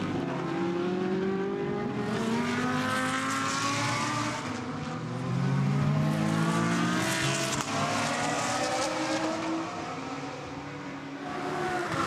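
GT race cars, including a Ferrari, race in a Blancpain GT Sports Club event at Barcelona. Several engines howl together, with pitch rising and falling through gear changes, and the noise swells as the cars pass.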